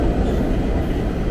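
Boston subway or commuter rail train rumbling at North Station, a steady low rail roar with faint clatter throughout, no voices.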